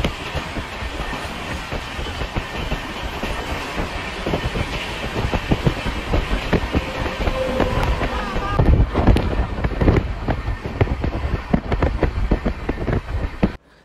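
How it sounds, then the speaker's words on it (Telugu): A goods train rumbles past on the adjacent third track, heard from inside a Jan Shatabdi Express running at speed, with continuous loud clatter and rattling wheel noise throughout. "మన పక్కన ఉన్న 3వ ట్రాక్ మీద అయితే గూడ్స్ ట్రైన్ అయితే వెళ్తూ ఉందన్నమాట"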